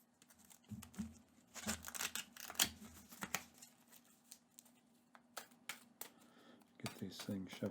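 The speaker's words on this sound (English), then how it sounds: "every time you shuffle the hero deck" A hero deck of game cards is shuffled at a tabletop game in bursts of crisp riffling and flicking card noises, separated by quieter gaps and fairly close to the listener.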